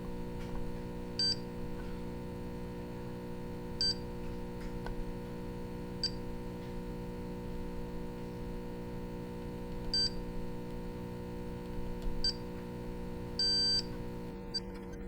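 Short high-pitched beeps sound intermittently over a steady electrical hum, a multimeter continuity tester chirping about six times at irregular intervals while checking soldered SMD chip connections.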